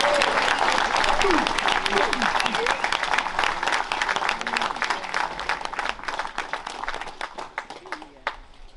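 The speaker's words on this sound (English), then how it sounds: "A round of applause to them." An audience claps for Caribbean WWII veterans of the Royal Air Force, dense sustained applause filling the hall, fading slightly toward the end.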